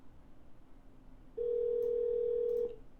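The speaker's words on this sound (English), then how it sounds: "No answer. Seems like it's just ringing out." A phone call rings out unanswered: after a quiet line, a single steady ringback tone sounds clearly for about a second, then cuts off.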